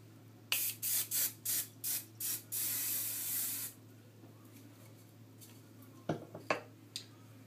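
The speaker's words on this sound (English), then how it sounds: "And it's a really good hairspray." Can of Mega Freeze Extreme Hold hairspray sprayed in a run of about seven short, close hissing bursts, then one long blast, followed by a few faint rustles afterward.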